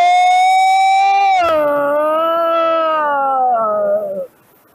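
A woman imitates the roar of a Naga serpent with a long, loud, wavering vocal cry that drops in pitch midway and then trails off, heard alone and close.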